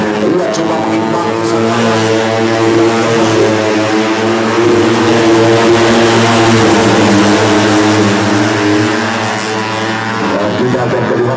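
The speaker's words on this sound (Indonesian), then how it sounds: "Ia berusaha untuk memacu laju motornya pada speed tertinggi." A racing motorcycle runs flat out at top speed on the Sentul circuit in a OnePrix Superpole race, its engine a loud, steady high-revving drone throughout.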